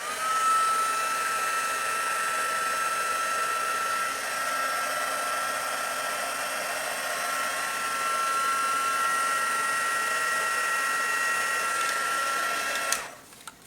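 A heat embossing tool blows a steady whirring stream of hot air to melt clear embossing powder on a stamped card, close and continuous for several seconds before switching off abruptly.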